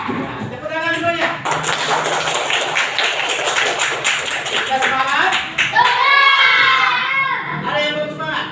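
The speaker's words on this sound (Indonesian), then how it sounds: "Tepuk tangan semuanya." Children in a classroom clap their hands together in a loud, steady burst, with young voices chanting and shouting over it as a teacher speaks.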